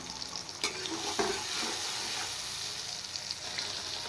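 Chopped tomato frying in a pan with cumin, coriander and chili powder, a steady close sizzle that holds throughout with a few sharp stirring scrapes near the start.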